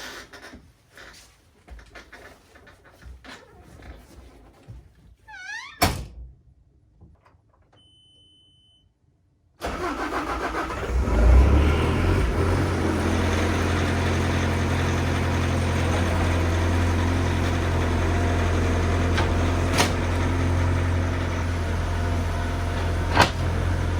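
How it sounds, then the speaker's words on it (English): Bobcat T590 skid steer starting up after some quiet clatter, then its diesel engine running loud and constant at close range, a steady heavy low rumble with a few sharp clanks. "now pull the skid steer out."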